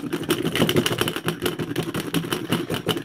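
Milk being frothed for espresso, only the top quarter inch worked by hand with a lidded pot, gives a steady, close, rough churning rattle that carries on throughout.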